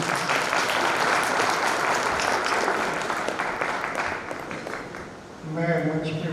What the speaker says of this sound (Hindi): सभी लोग तालियों से स्वागत करें।